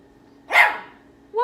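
A puppy gives a single close, loud bark with a rising start of a second bark at the end, alone without talk.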